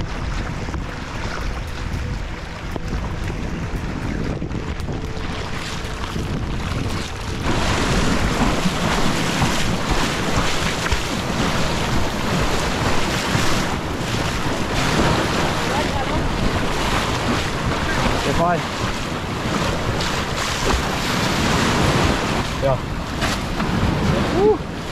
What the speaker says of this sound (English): And the tide is coming in.